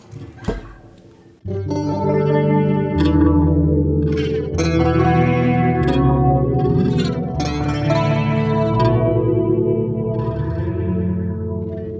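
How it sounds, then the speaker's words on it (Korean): A sustained polyphonic synthesizer built in Bitwig's C4 grid, drenched in chorus and echo effects, thick shimmering chords that swell in after a brief quiet intro and hold steady. "딜레이를 쓰셔도 되고 아까 저처럼 코러스를 여기다 또 추가해서"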